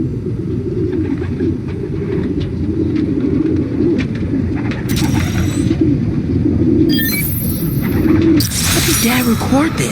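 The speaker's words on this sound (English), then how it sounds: "Place was swarming with pigeons." Pigeons coo in a park within the Spider-Man Miles Morales video game, a soft continuous murmur of cooing close by, with sharp bursts and breaking sounds near the end and speech mixed in.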